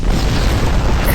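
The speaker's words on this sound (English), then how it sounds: "Launch that torpedo" A torpedo explosion in the space combat game Star Trek Online: a loud, steady, low rumbling boom that fills the whole moment without letup.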